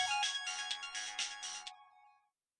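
An incoming call sets off a phone ringtone: a bright, repeating melodic pattern sounds clearly for nearly two seconds and then stops, with no voices over it.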